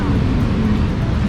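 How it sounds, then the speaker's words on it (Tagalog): A lowered, modified car rumbles in a deep, loud, close engine drone in busy street traffic in Thailand, with people talking nearby. "Ah, makina ng sasakyan. Sasakyan, yung mga nino-lowered na siniset up."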